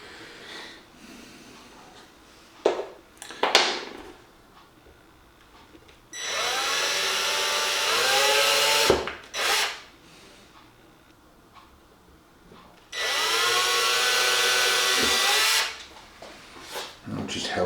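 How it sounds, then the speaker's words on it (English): A cordless drill bores a pilot hole in board on a small O gauge model railway layout, running in two steady whirring bursts of a few seconds each, close and loud, with brief handling knocks before them. "I'm just going to put a little pilot hole in."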